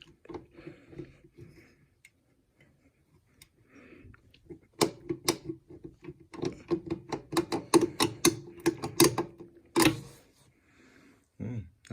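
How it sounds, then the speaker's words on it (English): A 12AX7 vacuum tube is worked out of its socket in a Lone Star amplifier, giving a close run of small sharp clicks and gritty scraping that quickens midway, ending with a louder snap. "I'm going to pull all of these tubes out one at a time"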